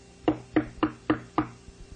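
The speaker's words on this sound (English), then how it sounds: "it sounds as if there's someone at my door" Knocking on a door: five sharp, evenly spaced raps, loud and close, with no voices.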